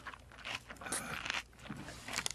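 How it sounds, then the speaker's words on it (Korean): Crisp crunching bites of bossam pork wrapped in kimchi, several close, loud crunches and chewing crackles in an irregular rhythm, eaten in a radio studio during a live broadcast. "지금 아삭아삭 소리가 진짜 김장 담글 때 엄마가 한 입 탁 준 그런 소리인 것 같아요"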